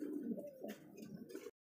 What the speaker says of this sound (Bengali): দেখতে পাচ্ছি এখানে মাস্টার পেয়ার একজন কবুতর